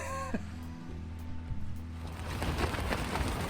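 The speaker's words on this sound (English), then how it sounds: "It's raining, blowing pretty good, as you can see." Rain and gusting wind on camping tents at Fort Peck just after a storm has passed: a steady patter and hiss of drops that swells louder over the second half, following a brief tonal hum at the start.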